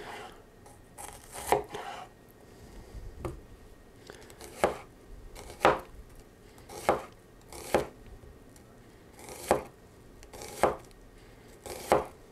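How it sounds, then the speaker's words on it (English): A Huusk Japanese stainless steel santoku knife slices through an onion on a cutting board, making about ten crisp, evenly spaced chops at close range with no talk over them. "Slicing some pretty good thin chunks off this onion"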